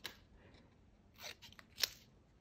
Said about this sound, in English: I'm just gonna use my scissors and, you know, neatly cut them out